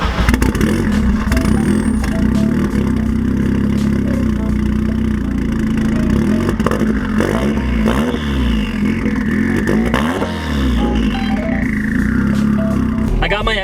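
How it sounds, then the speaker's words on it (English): Turbocharged Mazda Miata running E85 fuel, its exhaust droning loud and steady throughout with rising and falling engine tones during a pull, with clattering underneath. "Got my external mic hooked up to the exhaust so I can literally just plug you guys in when I go to do a pull."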